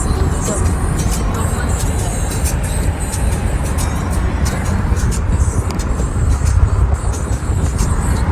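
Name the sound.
car driving in the rain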